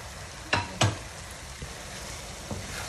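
Seekh kebabs are tossed into a sizzling chicken biryani masala in a pan, giving a steady frying hiss broken by two sharp stirring scrapes early on and softer ones after, heard close with no speech.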